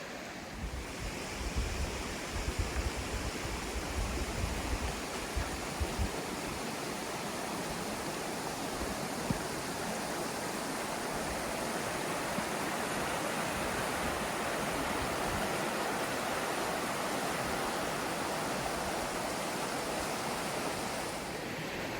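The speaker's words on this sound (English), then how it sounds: "I'm walking out to the White River right now" Glacier-fed White River at Mount Rainier, fed by Emmons Glacier, rushing steadily as a broad, continuous roar of flowing water, close and even throughout with no talk.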